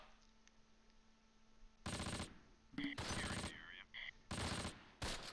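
Wartime gunfire in the Close Combat Last Stand Arnhem game, several loud bursts of rapid machine-gun fire cutting in one after another after a quiet opening, with a brief radio-like tone between bursts.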